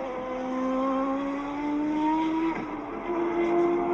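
A Champ Car race car engine passing during a 2005 Champ Car World Series race, a loud sustained high-pitched whine that climbs steadily, dips briefly, then continues, with a second engine tone joining near the end.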